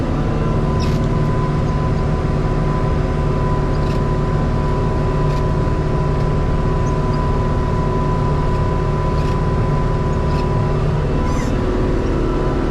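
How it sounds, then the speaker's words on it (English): New Holland tractor pulling a 4-bottom plow through a field, its engine a loud, steady, close drone with a constant hum and a few faint clicks above it, no voices. "5 miles an hour with this with my New Holland tractor and this 4-bottom plow, and you can see it's turning pretty easily."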